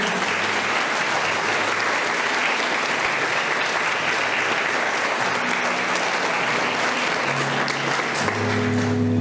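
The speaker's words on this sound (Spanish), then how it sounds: "Denle un aplauso al Señor" A church congregation claps loudly and continuously at a 60th anniversary service, dense applause filling the room at steady volume throughout, with a low musical tone entering near the end.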